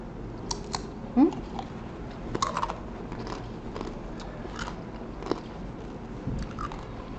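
Crunchy, spicy basreng seasoned with orange leaves is bitten and chewed up close, giving scattered crisp crunches and a few sharper bites over a quiet background, with no talking.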